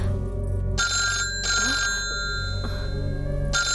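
A telephone rings indoors in a repeated electronic pattern of bursts and short pauses, loud and close, with a low background hum and no talking over it.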